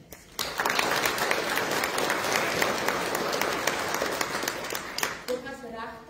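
A church congregation breaks into applause inside the church building, a sudden onset of dense, sustained clapping that carries for about five seconds before fading as a voice begins.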